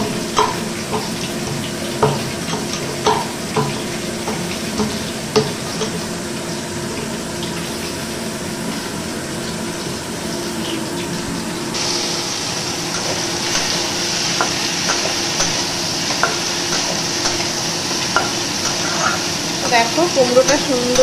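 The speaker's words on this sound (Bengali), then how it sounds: "দেখো কুমড়োটা সুন্দরভাবে কষিয়ে নেওয়া হয়ে গেছে" Pumpkin pieces sauté in a pan while fish fries nearby, giving a steady sizzle for over twenty seconds, broken by repeated scraping taps of a spatula stirring the pieces, fairly loud and close.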